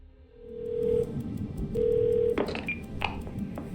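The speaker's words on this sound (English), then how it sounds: "Call Bumblebee from a location where your wife can't hear you, so either the bathroom, bedroom, or the closet." A phone is dialed in the 12 Minutes video game: a steady dial tone, then a rapid sequence of short touch-tone beeps, heard alone and fairly clear.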